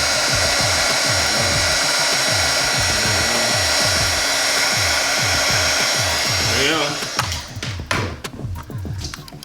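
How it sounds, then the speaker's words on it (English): A heat gun blows steadily for several seconds with a continuous rushing roar, then cuts off into scattered taps and handling clicks near the end, close and loud with no talk. "I'm gonna hit that with the heat gun real quick"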